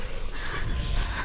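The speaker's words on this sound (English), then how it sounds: "This is the sound of your breath." Senua's breath in Hellblade: Senua's Sacrifice, a close, airy inhale and exhale in quick succession over a low rumbling ambience.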